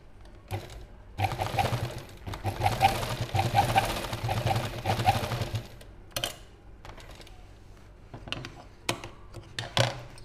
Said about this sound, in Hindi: देखिए इस कोने पे हमें इस तरह से सिलाई लगानी है।